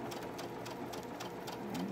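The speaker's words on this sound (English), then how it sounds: "And then we're going to sew it diagonally." A sewing machine stitches a diagonal seam across fabric for a quilt block, humming steadily with a quick, even needle rhythm the whole time, fairly quiet and close.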